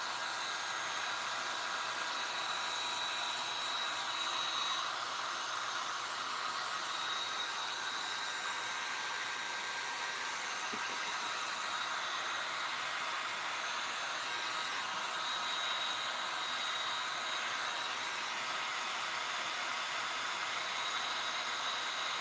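Hair dryer blowing continuously while drying a farmcore patina paint finish, a steady airy whoosh with a faint high whine, unchanging and alone for the whole stretch.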